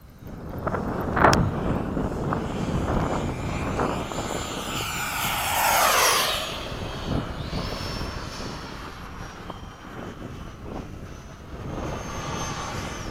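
A hot rod F-5 jet flies by, its engine roar swelling to a loud sweeping peak and then easing back under steady wind buffeting, with no voices.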